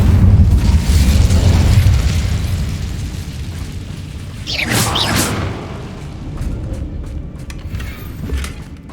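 In Hogwarts Legacy, an Incendio fire spell bursts with a loud deep rumbling blast, followed by a rushing whoosh midway and fading crackles, heard alone without voices.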